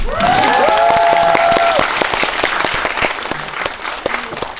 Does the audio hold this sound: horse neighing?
no